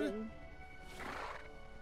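A short whinny from a horse in Kingdom Hearts III at the start, then a breathy snort-like rush, with faint background noise throughout.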